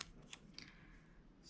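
Scissors cut paper for a weekly planner layout, giving quiet, close snips and a soft slicing glide over a short stretch.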